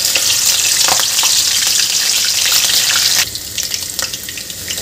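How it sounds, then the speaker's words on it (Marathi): Green chilies crisp-frying in hot oil for a poha chivda snack, a loud close crackling sizzle with stirring that eases to a quieter fry in the last second and a half. "आता यामध्ये आपल्याला मिरची आहे, मिरची फ्राय करून घ्यायची आहे."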